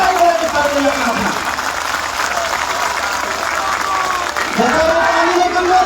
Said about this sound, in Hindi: जोरदार ताली बजा के स्वागत करें आप।